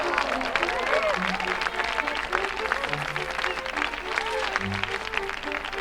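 A crowd cheering and applauding in the video game Wonderbook: Book of Spells, a dense steady roar of clapping and voices filling the whole stretch, with faint game music notes layered underneath.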